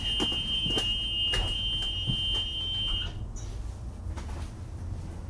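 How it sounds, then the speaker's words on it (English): A school bus emergency exit buzzer drones steadily at a high pitch for a few seconds, then cuts off, leaving low rumbling engine-like background noise. "I can hear the buzzer."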